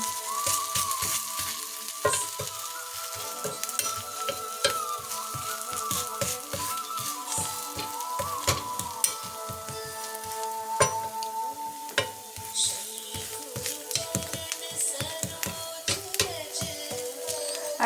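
Adai dosa, just flipped, sizzling on a hot pan: a continuous dense crackle that runs close and steady throughout, with a faint tonal hum and scattered pops above it.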